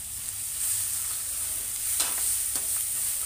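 Fatty mutton keema frying in a pan, a steady close sizzle with a few sharper scraping stirs near the end, no voices.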